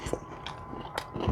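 Close bites and chewing on a Pizza Hut boneless bite with sauce, a few soft crunchy chomps and moist mastication sounds, quiet and without talk.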